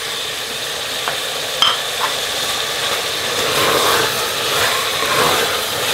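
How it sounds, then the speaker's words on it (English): Steady broadband sizzle of meat frying in a pan for pilau, with a few soft clinks and stirring scrapes near the start and no talking. "my meat's been frying for last 6 minutes now"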